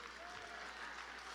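Audience applause at a community tribute event honoring Dr. Martin Luther King Jr., a steady, fairly faint wash of clapping from a crowd lasting the whole brief moment.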